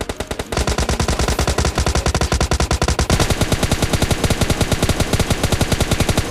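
Rapid automatic rifle fire from an MK14 in a battle-royale shooter game, with long, loud, steady bursts of closely spaced shots running nearly without pause.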